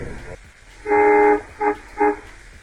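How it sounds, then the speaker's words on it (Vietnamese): A truck's horn honks in dashcam footage from the road, one long blast followed by two shorter toots, loud and close over low road noise. "có thể thấy tài xế bóp còi ở vị trí này."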